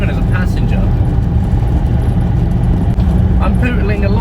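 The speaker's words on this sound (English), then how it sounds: "That little engine is like a sewing machine." A 1978 Citroen Dyane's small engine hums steadily while cruising at about 40 mph with a window open, a continuous even drone throughout.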